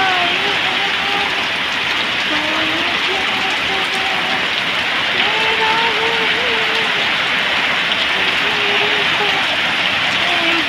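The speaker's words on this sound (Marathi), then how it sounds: "मस्त पाऊस यायला लागलाय" Steady rain pours outside a home, a dense, unbroken hiss that runs the whole time at close range, with a voice heard faintly over it.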